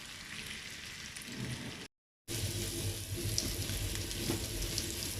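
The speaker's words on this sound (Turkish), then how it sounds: "Ara ara da sallaya sallaya kızartacağım." Steady crackling sizzle of chicken meatballs frying in a pan, constant and close, with a brief silent gap partway through.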